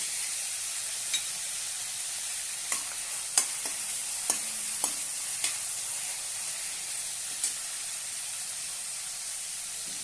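Drumstick pieces with dal, tomato and curry leaves sauté in a pan, making an even, moderate frying hiss broken by several sharp clicks and taps of a spoon against the pan.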